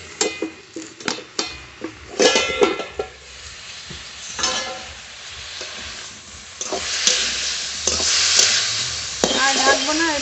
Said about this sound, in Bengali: ঢাকনা তুলে নেড়ে নেব।